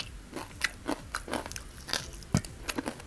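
Crunchy bites and chewing of spicy Korean noodles with fried chicken and fried egg, a string of close, sharp crunches at irregular intervals with no talking.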